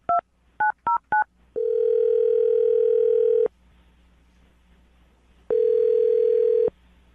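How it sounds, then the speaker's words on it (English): A telephone call placed live on a morning radio show: four quick touch-tone keypad beeps, then two long, loud ringing tones separated by a pause, with no talking. "I'm going to dial the phone right now and get her on the phone."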